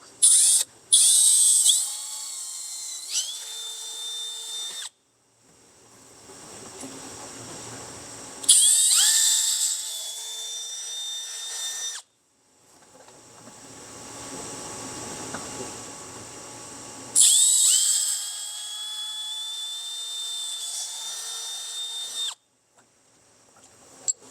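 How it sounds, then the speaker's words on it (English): A power drill match-drills holes through a UTV fender flare on a Kawasaki Teryx H2, in three loud, high-pitched whining bursts of several seconds each, separated by quieter gaps. "we're just going to match drill the center of each of these holes on the top"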